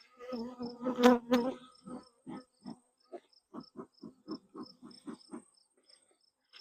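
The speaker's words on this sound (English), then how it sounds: "These bees are really after me today." Honeybees buzz in short, close bursts around an open hive during a colony inspection, droning near and then drifting off, with quiet gaps between passes.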